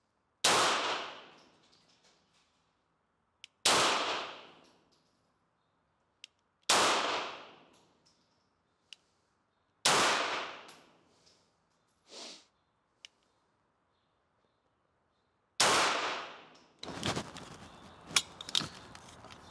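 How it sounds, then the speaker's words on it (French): Five test shots ring out from a Walther P38 pistol at a shooting range, each a loud, sharp report spaced a few seconds apart, with fainter clinks and handling noises in between. "c'est parti pour les 5 cartouches d'essai"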